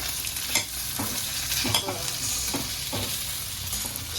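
Potato bhaji with peanuts frying and being stirred in a pan, a steady broadband sizzle with scattered soft scraping clicks of the spoon throughout, close and fairly even in loudness.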